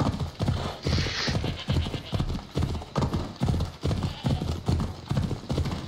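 Horse galloping in Assassin's Creed Odyssey, set among vineyards in ancient Greece: rapid rhythmic hoofbeats pounding steadily and close for several seconds, with a brief snort or whinny near the start.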